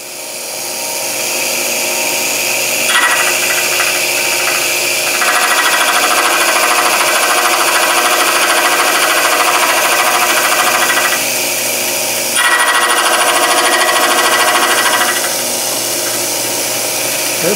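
A milling machine cutting slots in a metal spindle bore depth stop for a lathe gives a loud, continuous, noisy grinding whine that shifts in pitch now and then as the cut changes, with no talk.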